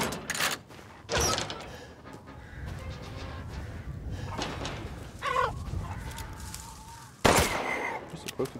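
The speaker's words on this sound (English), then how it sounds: "You're supposed to kill the roosters?" Roosters in the Resident Evil Village video game cluck and squawk in several loud bursts over a murky, rumbling background, with a voice talking at points.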